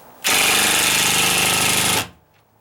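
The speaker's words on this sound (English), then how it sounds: "I'll put it on forward, and if I wanted to get that screw a little tighter, it'll just kind of ratchet in" A ratcheting power drill driving a screw into a deck ratchets in one loud, close burst of rapid rattling hammering, lasting under two seconds before it stops.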